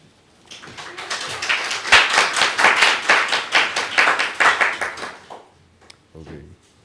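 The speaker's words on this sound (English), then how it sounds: "Please wave or clap for them." Audience clapping to welcome a new guest at a Dharma family service: a burst of hand claps rises quickly, holds steady for a few seconds, then fades to quiet with a brief rustle.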